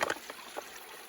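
Water trickles and gurgles into a Sawyer Mini pouch held in a flowing stream, a few soft splashy bursts near the start and then a quiet, steady burble.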